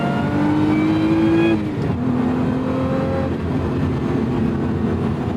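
A 2024 Lotus Emira's supercharged Toyota V6 with manual gearbox revs loudly up to a high pitch, drops off, then pulls steadily again with a sustained throaty drone.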